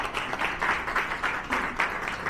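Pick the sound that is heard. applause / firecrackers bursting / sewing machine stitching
applause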